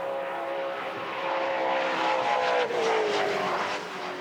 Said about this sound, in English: Just not your average Toyota 86 engine. Listen to this thing, the VK56 Nissan.